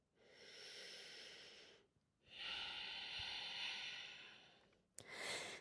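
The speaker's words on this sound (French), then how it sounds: "Prends une respiration." Deep, slow breaths during a French yoga flow session, with two long hissing exhales separated by a short pause and a sharp intake at the end, close and clear with no talking.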